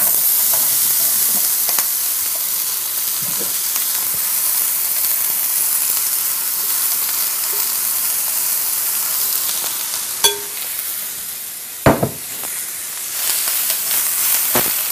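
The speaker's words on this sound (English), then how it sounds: "heat a large skillet or wok on high until very hot. Then add the marinated vegetables." Marinated vegetables stir frying in a very hot wok or large skillet for fajitas, a steady broadband sizzle and hiss with a few sharp clinks of stirring near the end, no talk.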